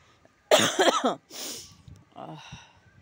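A woman with a lingering winter cough coughs at home, giving a sharp burst of a couple of hoarse coughs, then a rough breathy exhale and a weaker throaty follow-up, close to the microphone with no other talk.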